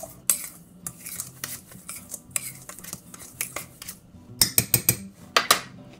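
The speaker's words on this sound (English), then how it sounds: "So I'm going to go ahead and stir those together" A utensil scrapes and clinks against a mixing bowl while dry pie ingredients are stirred together, with irregular taps and a busier burst of clatter near the end, close and with no talk.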